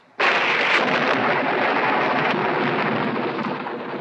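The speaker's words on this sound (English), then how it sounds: "And he was struck by lightning." A lightning strike lands as a sudden loud thunder crack that swells into a long, roaring rumble and slowly fades, standing alone on a vintage children's story record.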